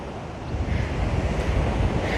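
Ocean surf rolls in at Waimanalo Beach, Hawaii, a broad, steady wash of breaking waves mixed with gusty wind buffeting the microphone, loud and close with no voices.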